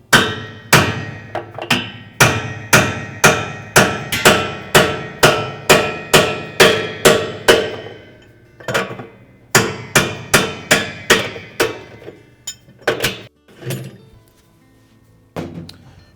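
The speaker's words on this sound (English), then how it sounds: "We'll take our heavy hammer." A short-handled heavy hammer strikes the metal mounting nut of a Maytag washer tub repeatedly in a steady rhythm, about a dozen sharp clangs, a pause, then another quicker burst of blows fading to a few last taps.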